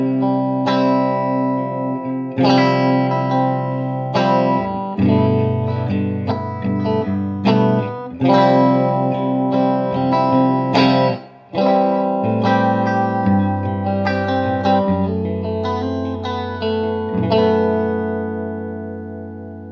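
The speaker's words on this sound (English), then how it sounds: "All right, bridge and middle pickup." Electric guitar, a Jerry Jones SC-3 on bridge and middle pickups, with a bright, slightly driven tone plays ringing chords and single notes, each attack sharp, with a short pause midway and no talking.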